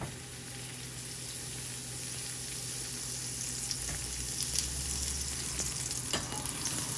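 Butter melting and sizzling in a sauté pan for an omelette, a steady soft crackle that grows slightly busier toward the end, with no one talking.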